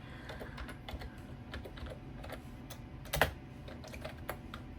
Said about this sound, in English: again, typing with one hand.